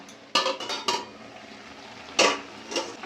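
A utensil stirs spinach in a metal pot for a Bengali-style spinach dish, giving a few sharp clanks and scrapes with quiet gaps, loud and close, with no voices.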